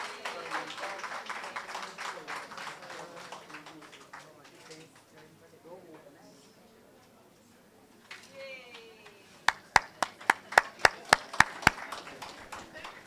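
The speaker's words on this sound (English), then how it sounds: "Give him a round of applause." Scattered claps rise to a brief burst of sharp hand claps near the end for Sylvester Cooper of Black's Shop at an entrepreneurship grants presentation, following a stretch of quiet room murmur.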